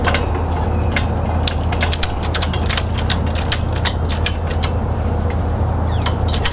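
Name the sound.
strap being tightened on a truck bed crane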